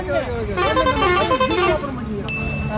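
Heavy road traffic near a busy bus stand, with dense engine rumble, a sustained honking horn and a short high toot, while a person talks over the noise.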